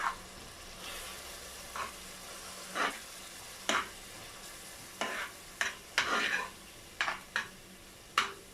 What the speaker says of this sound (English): Now I'm going to add in my masala.